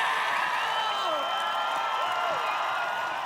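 A large arena audience at an Australian Ninja Warrior grand final claps and cheers steadily for a contestant, with a dense, continuous wash of applause and some whoops running through it.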